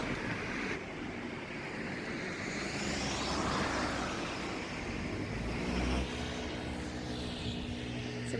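An airplane passes overhead during an outdoor spring walk in Kanagawa, Japan, its broad distant roar swelling and fading steadily for several seconds with no talk.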